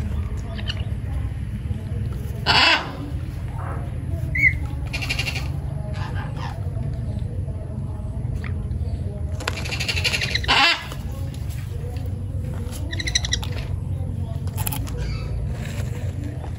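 A newly arrived baby bird being hand-fed gives repeated begging calls, bleat-like squeaks in short bursts over a steady low hum, with faint voices in the background.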